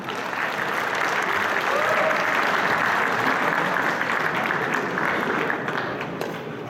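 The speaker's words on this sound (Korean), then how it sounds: "큰 박수 부탁드리겠습니다" Sustained applause from a union gathering's audience welcoming a former labor confederation official as guest lecturer, dense and steady throughout with faint voices in the crowd.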